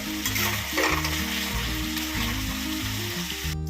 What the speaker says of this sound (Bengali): আর দেবো হলুদ। ভালো করে কষতে হবে।